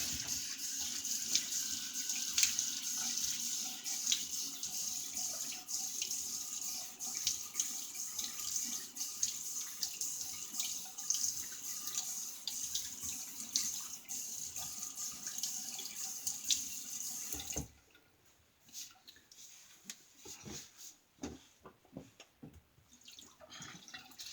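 Tap water runs steadily into a sink for wetting the face before shaving, a close, even hiss that cuts off abruptly near the end, leaving faint drips and small handling sounds.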